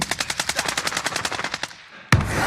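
Machine gun fire in the Warzone video game: a rapid burst of about fourteen evenly spaced shots, loud and close, trailing off, then a single sharp louder blast near the end.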